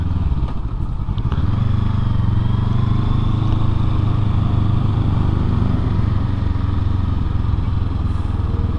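A Honda SCL500 scrambler motorcycle engine runs loud and close for the whole stretch, a steady deep throbbing drone with rough clatter layered on top and no speech.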